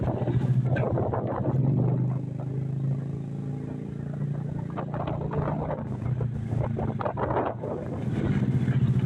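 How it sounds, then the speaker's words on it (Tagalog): Strong wind roars steadily into the microphone for the whole stretch, a loud, blustery rumble with gusts rising and falling, and no voices. "Super lakas nga po ng hangin dyan"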